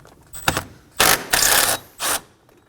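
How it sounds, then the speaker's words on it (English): A ratchet with a 12mm socket and extension loosens the battery tie-down on a 2016-2020 Kia Sorento 2.4L, giving a few short close mechanical bursts of clicking with brief pauses between them. "using a 12mm socket and an extension, we're going to remove the tie down"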